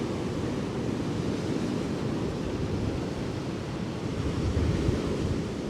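Storm waves during gale-force winds crash along Blackpool promenade at high tide, a steady loud roar of surf with heavy wind buffeting throughout, no voices.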